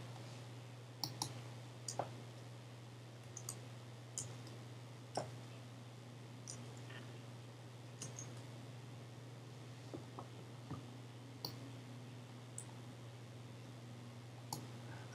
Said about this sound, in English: Practice typing the R key in the box below.